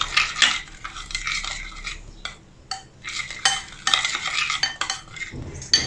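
Mustard and olive oil marinade stirred with a spoon in a bowl, a near scraping clatter of utensil against dish in quick uneven bursts with short pauses, no talking.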